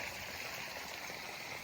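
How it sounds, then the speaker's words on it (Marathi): Irrigation water runs steadily along a channel to trees, a soft, even wash of flowing noise with no pauses and no voices. "आता हे असंच पुढं पुढं पुढं पुढं पाणी चालत राहणार आहे"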